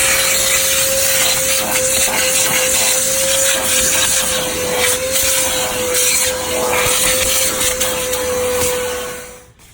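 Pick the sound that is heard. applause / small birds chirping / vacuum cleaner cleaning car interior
vacuum cleaner cleaning car interior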